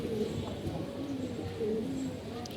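Soft pigeon cooing, a low burbling call repeated a few times over a steady background hum, with faint talk in the distance.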